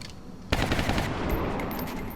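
A sharp gunshot bursts out in XCOM: Enemy Within, followed by a loud rattling volley of automatic fire that tails off over about a second and a half.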